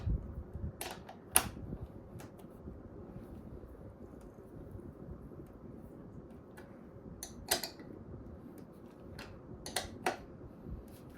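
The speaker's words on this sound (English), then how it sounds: "So I'm just using the extension of the ratchet." A ratchet with an extension tightens a bolt on the rear fender of a Kawasaki KE175, giving faint, sparse clicks over a low background hum.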